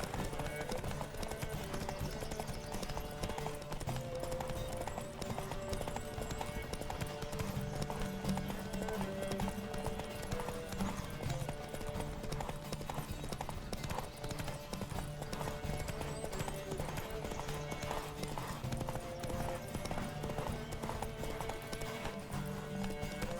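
Hoofbeats pound steadily as horses gallop in a race in The Witcher 3. The rhythm runs continuously beneath background music, and a voice speaks at times over the hooves.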